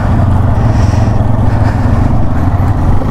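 A TVS Raider 125 motorcycle engine running while riding, a loud continuous low rumble that holds steady for the whole stretch with no talk.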